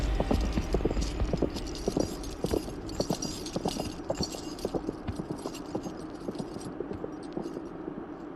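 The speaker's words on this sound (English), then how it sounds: "The horses' feet beat their muted drumming until it becomes faint" Horses' hooves clip-clop at a steady trot, loud and close at first, then gradually fading into the distance until only a faint patter remains.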